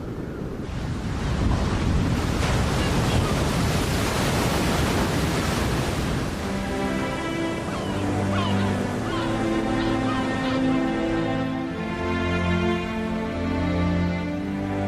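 Atlantic Ocean surf on a rocky shore, a loud continuous wash of breaking waves, with tonal music rising over the surf in the second half.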